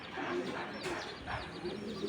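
A racing pigeon coos softly nearby, a few low rounded calls repeating over a quiet background with faint rustling and no talk.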